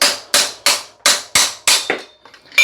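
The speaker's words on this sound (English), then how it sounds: "Those will spring in and then you just hammer it." A hammer strikes a cup removal tool to drive a bearing cup out of a bicycle headset on an Ozark Trail G1 Explorer gravel bike. Six sharp, evenly spaced metallic blows ring close up, followed by a few lighter rattles.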